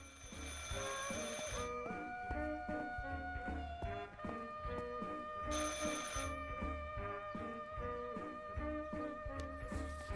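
In the Martha Is Dead video game, an old telephone bell rings continuously in a rapid, rattling trill, with louder bursts at the start and again midway. The ringing is close and steady, with no talk.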